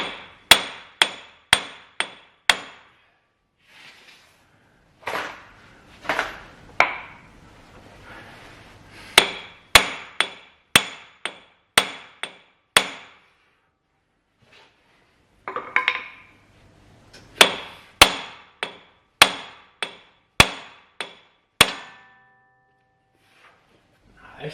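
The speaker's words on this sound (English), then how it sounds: "I'm just going to use an 85-pound extension rod and try and hammer it in" A metal extension rod is hammered against a car part on a wrecked Porsche GT4 in sharp, ringing metallic strikes, fired in quick runs of several blows with brief pauses between groups, loud and close.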